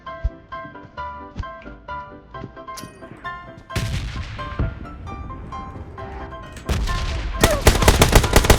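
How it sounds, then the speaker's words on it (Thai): Gunfire in the mobile battle-royale game PUBG Mobile, bursts of rapid shots over game music, growing into a dense, loud volley at the end with no talk. "มันทำไมยิงป๊อปแป๊ะป๊อปแป๊ะอย่างนั้นวะ"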